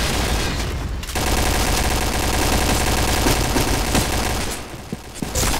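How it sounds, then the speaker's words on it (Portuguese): Rapid automatic gunfire in the online shooter CrossFire, dense continuous bursts filling most of the stretch, loud and close, briefly cutting off before another short volley. "Eu dei uns 4 tiros nele e arregaçou"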